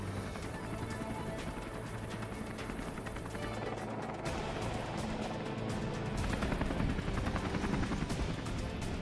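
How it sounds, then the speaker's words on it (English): A rescue helicopter returns over a steep mountain to pick people up, its rotor chop and engine roar building steadily, growing louder as it approaches, with a dense rushing noise throughout. "The helicopter returns and picks them up."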